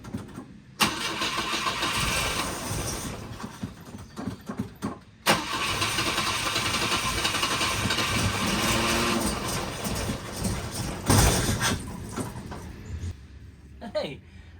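A 1971 Volvo 142 engine cranks and starts while fed from a boat fuel tank, then runs steadily with a mid-pitched drone, briefly cutting out and restarting, with voices talking over it.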